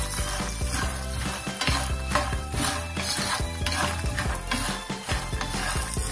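Makhana (fox nut) and peanut namkeen tossed and stirred in a hot pan, giving a steady close rattle and scrape with light metallic clinks throughout.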